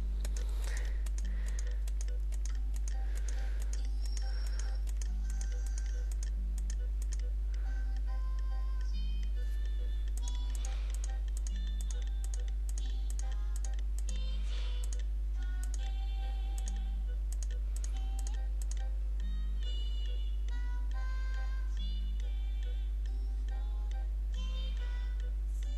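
Computer keyboard keys tapped out to the beat of a song, a steady run of close, crisp clicks over quiet background music playing throughout.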